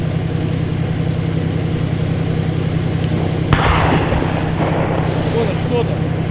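An artillery gun fires once, a single heavy boom with a brief rumbling decay over steady, loud outdoor background noise.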